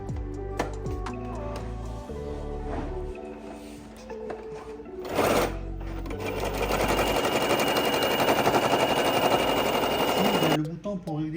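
A PK505 overlock serger stitches through fabric with a fast, steady mechanical whir that rises from about five seconds and runs loud and continuous, preceded by lighter handling clicks and clatter before stopping near the end.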